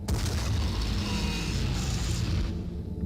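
A cannon firing in a video game: a sustained, loud low boom with a rushing, noisy tail that fades after a couple of seconds, heard alone without talk.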